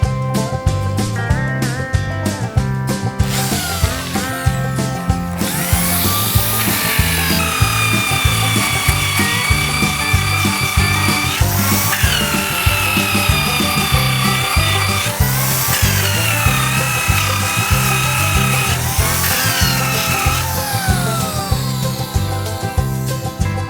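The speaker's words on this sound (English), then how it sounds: "I'm just going to use my drill here with the sanding disc on it to sand down some high spots on these nogs and posts" An electric drill fitted with a sanding disc grinds down high spots on the wooden nogs and posts of a garden shed being renovated, a steady close whirring rasp that rises and falls in pitch as the disc bites and eases.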